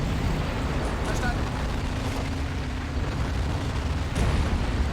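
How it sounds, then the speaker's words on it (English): Dense, rumbling battle din from Men of War: Assault Squad 2 at Kursk 1943, with two artillery guns firing amid continuous loud roar and a heavier boom near the end, while a voice talks throughout. "Two artillery guns firing now."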